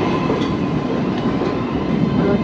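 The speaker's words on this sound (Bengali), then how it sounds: "ফাইনালি আমাদের ট্রেনটা এলো" A crowded subway train pulls into a New York station toward Manhattan, giving a steady, loud, broadband rumble of wheels and cars that holds evenly throughout without any talk.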